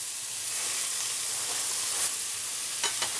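Chicken pieces browning in a hot pan give off a steady, close sizzle and hiss, with a few sharper crackles near the end and no voices.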